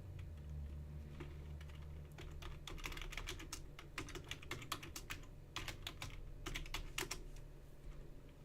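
Fast, continuous clatter of keys on a computer keyboard, a burst of close typing running alone over a low, quiet background hum.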